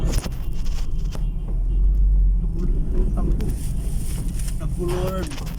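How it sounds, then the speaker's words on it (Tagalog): A truck rolling along a damaged, dug-up road, a heavy low rumble with wind buffeting on the microphone, under people talking nearby. "ito ang truck oh"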